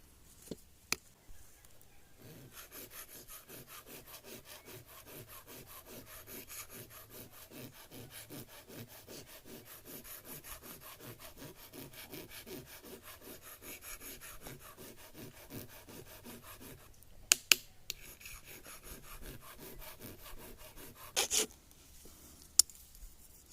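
A metal file rasps back and forth along the edge of a spoon used for peeling nopales, a quiet, steady rhythmic scraping that runs for many strokes, with a couple of faint clicks.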